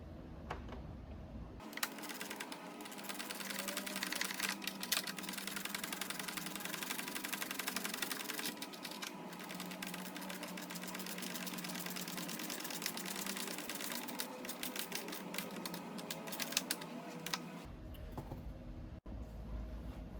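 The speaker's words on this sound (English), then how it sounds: "I'm gonna start ratcheting this and probably put you on fast forward because this is gonna be a while." Rapid ratchet wrench clicking while tightening an amplifier mount on a 2022+ BMW K1600B motorcycle, a steady dense rattle running close and continuous for most of the stretch, then stopping near the end.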